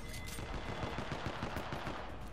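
Video game gunfire: a rapid, continuous stream of automatic shots, fairly faint and distant, with no talking over it.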